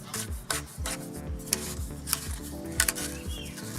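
Hand-screwing a pool pipe ring and T-piece fitting together gives a close, steady rasping rub of threads, repeated in short strokes with a few light knocks.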